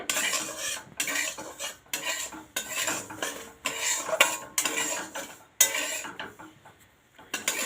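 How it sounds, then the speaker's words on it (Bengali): A metal spatula stirs semolina frying in a pan for halwa, scraping in repeated rhythmic strokes about once a second, with clatter against the pan and a soft sizzle beneath, close and alone. "যাতে না পুড়ে যায় সবসময় নাড়তে হবে"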